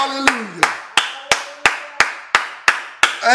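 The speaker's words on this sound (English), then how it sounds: "that give you a reason to clap your hands" Hands clap in a steady, evenly spaced rhythm, about nine sharp claps in a row, loud and close, during a Wednesday morning prayer service.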